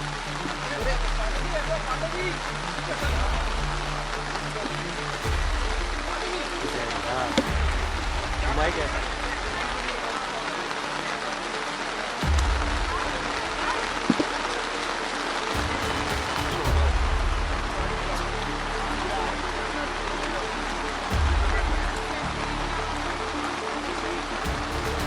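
Steady outdoor rain pours down in a heavy continuous hiss throughout, with a low rumble of passing traffic and people talking faintly beneath it.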